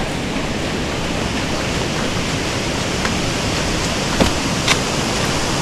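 A rushing waterfall on the West Highland Way in the Scottish Highlands gives off a steady, loud, unbroken roar with a couple of faint clicks near the end and no talking.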